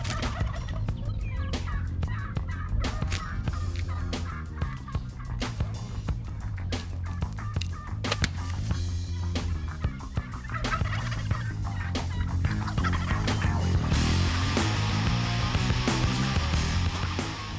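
A wild turkey tom gobbles repeatedly during a spring bow hunt, loud bursts rising over steady outdoor background noise.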